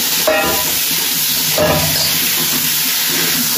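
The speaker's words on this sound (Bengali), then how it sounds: "আলু আর ডিমটা দিয়ে দিলাম," Potatoes and egg with chilli powder frying in a pan, giving a loud continuous sizzle with a couple of stirring scrapes and no speech.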